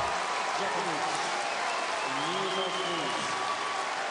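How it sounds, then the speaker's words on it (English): Tennis crowd at the Australian Open quarterfinal applauding steadily from all around, a dense continuous roar of clapping mixed with faint crowd voices and commentary underneath. "But they stand to applaud"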